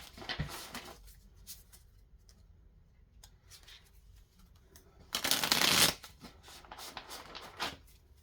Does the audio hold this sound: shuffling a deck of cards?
yes